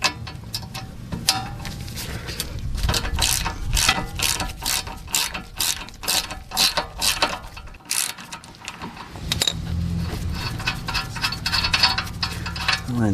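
A pass-through socket ratchet loosening the CV axle nut on a GM 3.6 Buick LaCrosse, clicking in fast, loud, steady runs of ratchet pawl ticks with a brief pause in the middle.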